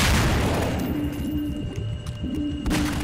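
A full-auto double barrel shotgun fires in the Half-Life 2 video game, a loud, dense barrage of booming blasts that runs almost without a break.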